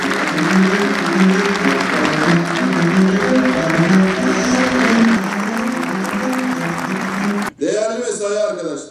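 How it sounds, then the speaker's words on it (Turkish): Audience applause at a civil-servant union gathering, loud and sustained, with sustained voices over it, ending abruptly with a brief cut to a different sound. "Kuvvetli bir alkış istiyorum."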